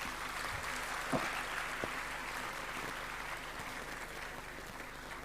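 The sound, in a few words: applause for the students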